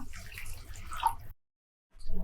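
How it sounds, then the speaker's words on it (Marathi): Water from rinsing a mixer jar pours into a pan of parwal curry with oil separated, a gurgling splash up close that stops for a moment of silence before pouring resumes. "आता त्यामध्ये हे मिक्सरचं भांड धुवून हे पाणी"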